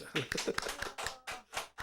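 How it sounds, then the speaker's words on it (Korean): A church congregation at a Sunday morning service gives a short round of applause, faint, distinct hand claps falling in a loose rhythm with brief gaps between them, with a voice nearby. "우리 박수 한번"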